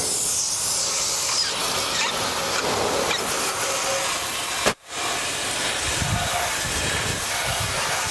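Water spraying to rinse the bumper of a 1966 Buick Riviera, a steady close hiss of spray with a brief cut near the middle before the rushing water resumes.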